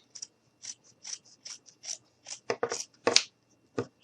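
Scissors snip off a small piece of craft material for a bumble bee gnome, a dozen or so quick close crisp cuts in an uneven rhythm.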